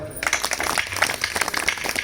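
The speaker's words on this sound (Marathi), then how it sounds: "साऊंड वाल्याकरता टाळ्या वाजवा" An audience at a kirtan event claps for the sound system operator, a dense patter of applause starting just after a brief pause and continuing at moderate loudness.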